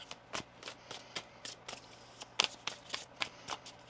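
Tarot cards being shuffled by hand during a reading, a run of quick crisp riffling bursts repeating in an uneven rhythm, close and fairly quiet with no talking.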